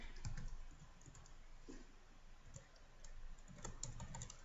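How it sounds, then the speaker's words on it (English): Steady, fairly faint clatter of keys being typed on a computer keyboard, a close run of quick irregular taps with no talking. "Okay, I'm just gonna type it in."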